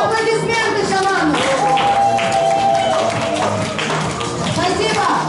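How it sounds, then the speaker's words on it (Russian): A crowd applauds a shaman after a performance, a continuous patter of clapping that runs throughout, with voices speaking over it. "аплодисменты шаману."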